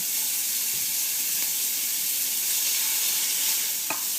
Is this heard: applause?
no